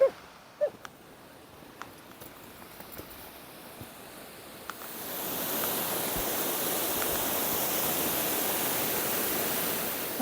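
Waterfall on Sourmilk Gill in the Lake District fells, at first faint and distant with a few scattered knocks and footsteps, then swelling after a few seconds into a steady, loud, close roar of rushing, plunging water.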